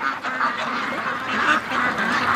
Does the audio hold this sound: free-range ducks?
yes